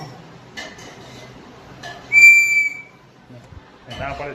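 A child at home blows a whistle once, a short, loud, shrill blast between quieter moments, with faint talking before and after.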